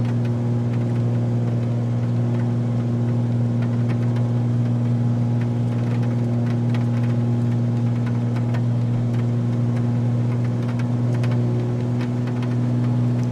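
Steady drone of the Cirrus SR22's piston engine and propeller in Microsoft Flight Simulator 2020, a constant low hum with strong tonal bands, heard alone and unbroken throughout during a slow approach.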